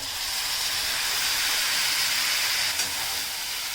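Chopped ridge gourd sautés with onion and green chillies in a pan, producing a loud, steady, steam-like hiss that barely varies across the few seconds.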